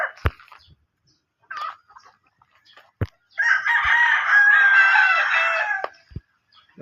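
Backyard breeding roosters crow in a long, loud call, with a few sharp clucks and knocks before it and brief silence around it.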